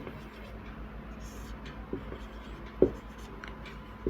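Chalk or marker writes on a board in a classroom lesson, soft scratchy strokes and a few taps in a quiet room with low background hum.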